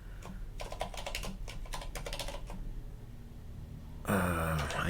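Rapid keystrokes on a computer keyboard as a password is typed, in two short bursts of clicks close by, followed by a pause and then a louder throat-clearing sound at the end.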